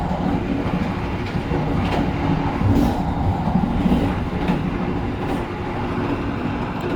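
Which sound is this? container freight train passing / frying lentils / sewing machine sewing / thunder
container freight train passing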